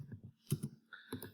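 Keys clatter briefly on a computer keyboard as a name is typed, a few quick close clicks in two short bursts.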